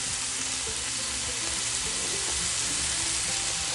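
Sauce with Worcestershire and honey being stir-fried in a Lodge Cook It All used as a wok: loud, continuous hissing sizzle with occasional soft scrapes and stirring knocks, no voices.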